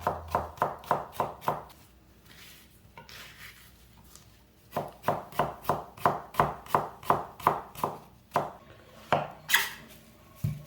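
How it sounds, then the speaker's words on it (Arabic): A knife finely minces onion on a board in quick rhythmic bursts of sharp chopping strokes, a run of about seven, a pause with faint shuffling, then a longer steady run, close and clear. "أقطع البصل وأفرمه فرم ناعم جدا."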